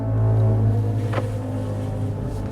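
BMW i5 M60 electric car accelerating in expressive mode, a steady synthetic droning hum with layered low tones and a brief rising swoosh midway, heard from inside the cabin without talk.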